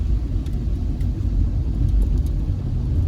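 A car engine runs steadily on a drive through Moore Town, a deep continuous rumble with road noise, loud and close, with no voices.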